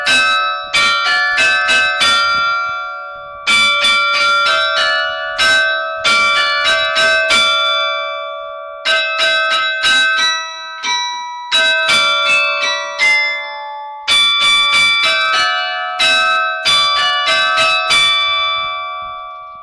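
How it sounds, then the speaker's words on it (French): The Douai carillon, 47 bells spanning five octaves, played by hand by a carillonneur: bright struck bell tones ring out in quick melodic phrases separated by short pauses, loud and close, each chord decaying into a shimmering tail. "Alors regardez, notre guide est aussi carillonneur,"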